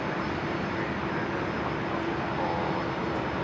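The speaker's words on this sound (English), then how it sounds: "There we go, Singapore 236 cleared for takeoff" Singapore Airlines flight 236 airliner taking off from runway 01 left at Brisbane airport, a steady broadband engine roar held at a constant level throughout, with no voices.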